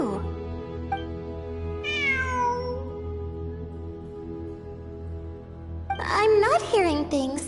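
A cat in Genshin Impact meows in two drawn-out, rising and falling cries, the second louder and more insistent, over a soft steady game background.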